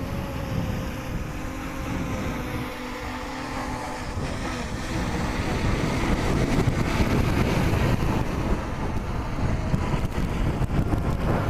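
Strong wind roars and buffets steadily outdoors during a high-wind flight of an SG906 Beast Pro drone. The gusty rumble is loud and continuous and builds slightly toward the end, with no talk.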